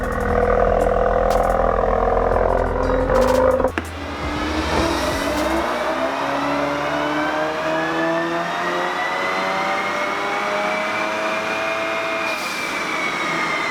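A tuned Ford Focus RS on a dyno, rear drive unit disconnected, drops from a loud low drone with a clunk, then its engine note climbs steadily and loudly through a long pull.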